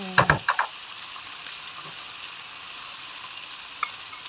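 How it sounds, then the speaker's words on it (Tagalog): Onions and aromatics frying in a pan, with a quick run of utensil clacks from stirring at the start, then a soft, steady sizzle close by. "Ayan po, halo-haloin lang po natin ito"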